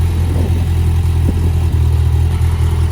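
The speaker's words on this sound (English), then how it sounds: "There's your stock muffler." A car with its stock muffler idling, a steady low exhaust drone with an even, continuous rumble throughout and no one talking.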